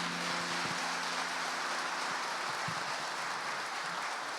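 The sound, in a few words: church congregation applause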